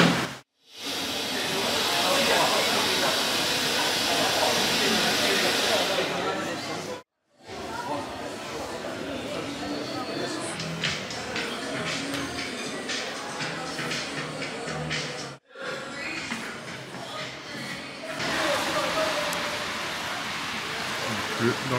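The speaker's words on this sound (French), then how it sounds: "Et il pleut." Steady rain falls in a desert town about 500 km south of Algiers, making a dense, continuous hiss that runs the whole length with a few brief dropouts; no voice is heard.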